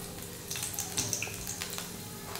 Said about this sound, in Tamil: இப்போ லேசாக சோம்பு மட்டும் கொஞ்சமாக போட்டு தாளிச்சுக்கலாம்